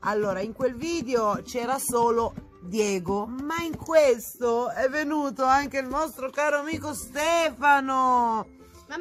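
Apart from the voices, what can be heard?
None of the usual background noises is heard.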